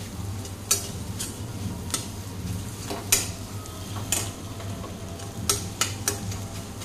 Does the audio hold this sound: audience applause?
no